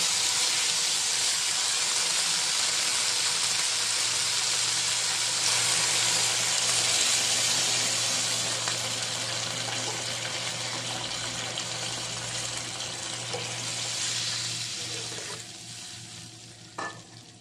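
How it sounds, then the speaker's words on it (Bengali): Water goes into a pot of sautéed lentils with bay leaves, producing a loud, continuous hissing rush that gradually eases toward the end, with a faint knock near the close. "এখন পানি দিয়ে দিব।"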